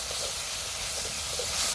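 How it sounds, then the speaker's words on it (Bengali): Ginger-cumin spice paste frying in oil in a pan for a Bengali fish curry with potatoes, a steady close broadband hiss and sizzle throughout with no voices. "মশলাটা খুব ভালোভাবে কষিয়ে নিছি।"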